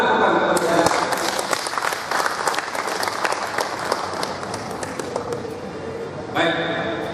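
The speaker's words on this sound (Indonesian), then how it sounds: "Berilah tepukan kepada saya." An audience at an MLM business talk claps loudly for the speaker, a dense, continuous patter of many hands that thins slightly toward the end before a fresh burst.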